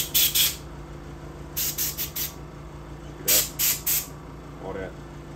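Compressed air from an air hose is blown through a Super Soaker Gamma EVO Nano mister in short, sharp hissing spurts. The bursts come in quick clusters of two or three, close up, with brief pauses between them.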